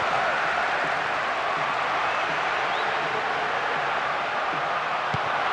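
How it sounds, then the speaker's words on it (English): Steady, incessant stadium crowd noise from the football video game Winning Eleven 2008, a dense roar holding at an even level throughout without breaks. "The noise level has never been anything other than incessant."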